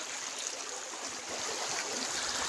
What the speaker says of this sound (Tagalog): tingnan niyo mga idol sapa